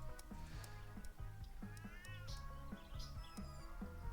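A cartoonish cat meows several times in the video game Walk of Life, the rising calls sitting over steady looping background music.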